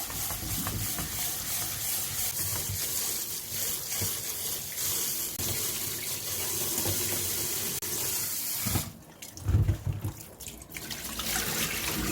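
Running water pours steadily from a tap into a bowl, with splashing and swishing as rice is rinsed by hand, a brief louder slosh near the end.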